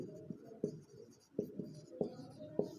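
Pen or chalk tapping and scratching while a math solution is written out, a run of light irregular strokes with sharper taps about every half second, quiet and close.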